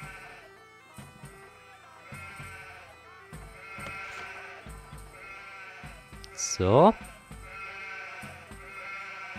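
A single short sheep bleat rises over steady game music and sound effects in the game Anno 1503, with a brief word spoken nearby.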